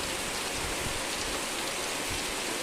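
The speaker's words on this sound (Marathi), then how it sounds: "बघा किती जोरदार पाऊस पडतोय" Heavy monsoon rain falling steadily outdoors, a dense, continuous hiss of drops on surfaces, close and unbroken with no voices.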